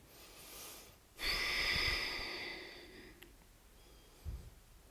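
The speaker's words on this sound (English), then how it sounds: "Taking 2 more breaths in here." A slow, deep breath drawn during a post-run yoga stretch, audible as a soft airy inhale rising then fading, followed by a brief quiet exhale, with no talking.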